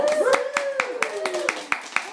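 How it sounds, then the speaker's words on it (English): A few people at a small party clap in a steady rhythm, roughly four claps a second, while a voice speaks over the clapping. "what I'd like for you all to do is give Denise a round of applause"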